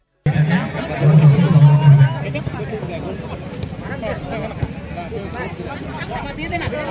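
Crowd chatter at a big tournament final, with dense babble of many voices filling the space continuously and a louder voice near the start.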